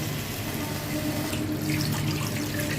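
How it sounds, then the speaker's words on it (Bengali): Water pours steadily into a pot of mutton biryani already seasoned with salt, turmeric and chili powder, making a continuous close rushing splash that swells slightly toward the end. "এর মধ্যে আমি দিয়ে দেবো হচ্ছে জল"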